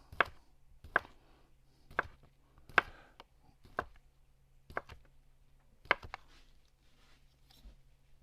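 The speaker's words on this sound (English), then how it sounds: "And you're just going to slice up your sausages." Knife slicing sausages on a cutting board for a Cajun chicken and andouille gumbo, seven or eight crisp, evenly spaced chops about a second apart in a quiet room.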